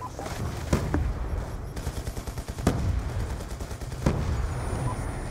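Gunfire from Black Ops 2 on the Nuketown map, with steady automatic fire under a busy game mix and several louder single shots standing out, heard at a moderate level.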